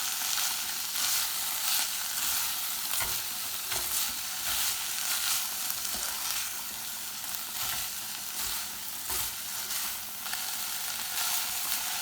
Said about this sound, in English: Now keep stir frying the vegetables for 5 to 10 minutes.